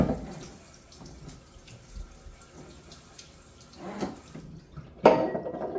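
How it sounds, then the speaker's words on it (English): A cutting board is rinsed under a kitchen sink tap, running water splashing quietly with faint clatter, then a louder burst of water gushing near the end. "I'm going to rinse off my cutting board."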